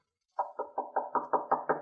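Someone raps steadily on a hotel room door, about eight evenly spaced knocks, close and clear with no one talking.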